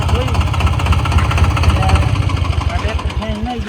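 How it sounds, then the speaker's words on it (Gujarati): A 4x4 tractor engine rated 28 HP labors loudly and close during a tractor tug-of-war against a 20 HP mini tractor, a rapid pulsing diesel chug throughout with voices heard over it. "આપણે દેખાડવાનું છે 28 નું 4x4 ટ્રેક્ટરને 20 HP થી ખેંચીને દેખાડવાનું છે"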